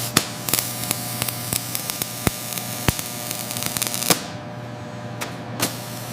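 An airbrush spraying translucent ink onto a silicone mermaid tail: a steady hiss over a low hum, broken by sharp clicks, until the spray cuts off near the end.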